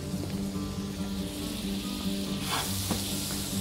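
A knob of butter sizzling in a hot frying pan with rapeseed oil while frying meat, a steady, fairly quiet crackling hiss with a few sharper pops, no talking.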